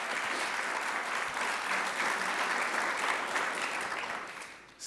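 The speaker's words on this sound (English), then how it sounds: "You can clap, yes." A dense, steady round of audience applause fills a breakfast event hall for the CUNY chancellor, staying loud and even for about five seconds before dropping off sharply at the very end.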